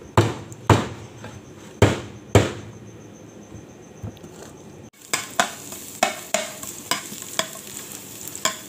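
Crushed garlic sautéing in a pan for an okra stir-fry, with a steady sizzle broken by sharp knocks and scrapes of a spatula against the pan, loud and close, with no one talking.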